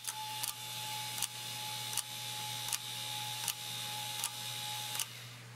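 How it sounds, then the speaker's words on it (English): Mills golf ball slot machine ratchet running, with a steady mechanical whir and sharp clicks repeating about every 0.75 seconds, close and even, ending with a softer wind-down. "One more time so you can see the ratchet running."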